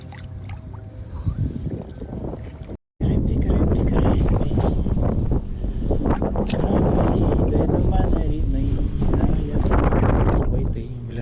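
Heavy, cold crosswind buffets the microphone at a pond while spinning fishing in Medina, Ohio, in loud, rumbling gusts, with a brief dropout early on and people speaking under the roar.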